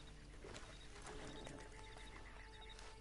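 Horse hooves clip-clopping in the Red Dead Redemption Online video game, a quick rhythmic patter of steps at moderate distance, heard continuously over a low ambient bed.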